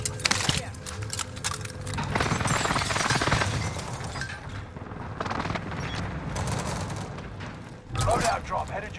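Video game gunfire cracks out in bursts of shots and heavy impacts over a busy battle mix, with a louder volley near the end.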